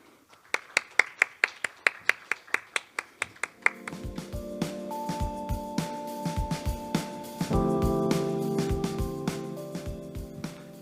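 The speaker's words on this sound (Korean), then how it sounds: "큰 박수로 모시겠습니다." A string of single hand claps at a Korean conference is followed by a crowd joining in, and the applause spreads into steady, dense clapping in a ballroom while a sustained musical tone plays underneath.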